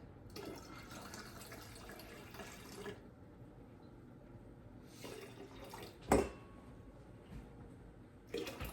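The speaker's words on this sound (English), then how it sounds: "And we're going to pour about a cup in each jar." Homemade root beer poured into jars, a soft splashing pour in two bursts with quiet clinks of glass between them, close and fairly faint.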